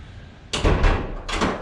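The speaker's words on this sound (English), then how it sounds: "So, close the door to cut the light out." A garage door being pulled shut, heard as two loud, close rumbling, scraping bursts about a second apart, with no talking.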